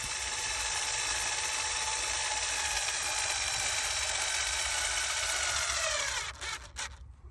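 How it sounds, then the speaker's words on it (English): A cordless screwdriver drives a 75mm screw into timber while building an eDecks Atlas Gazebo Deluxe, giving a steady, loud motor whine that holds for several seconds and then cuts out into a few short clicks and rattles. "And the cordless screwdriver is charged up a little bit now."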